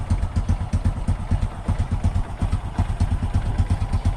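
A carbureted Honda XRM 125 motorcycle engine runs at idle after starting, a loud, close, steady low chugging with a fast, even pulse throughout.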